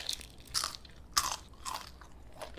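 Crunchy fried dimsum filled with melted cheese bitten and chewed up close, three or four sharp crisp crunches spaced about half a second apart, with no talking.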